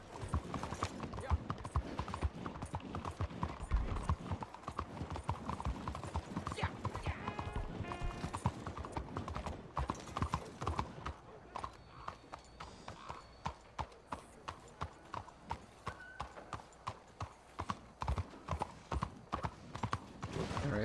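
Horse hooves clip-clop steadily in the video game Red Dead Redemption 2, a quick repeating rhythm of moderately close hoofbeats with occasional mechanical creaks, thinning to sparser steps in the second half.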